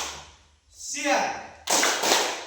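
A classroom of students claps hands twice in unison on a teacher's cue, two loud, sharp bursts following a brief spoken voice in a room.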